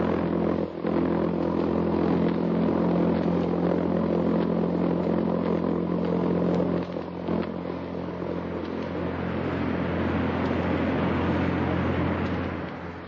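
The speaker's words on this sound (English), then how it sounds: "It's the sound made by the jet-propelled buzz bomb, Hitler's weapon of vengeance." Archival radio recording of a V-1 buzz bomb's pulse-jet engine in flight: a harsh, continuous droning roar, loud and unbroken for over ten seconds, with a slight dip partway through.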